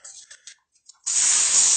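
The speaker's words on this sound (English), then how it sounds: "I'll spray this in your fucking face" A spray can hisses loudly and steadily in a continuous close burst after a few brief faint sounds and a short pause.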